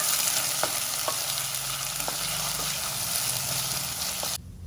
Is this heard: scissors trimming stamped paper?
no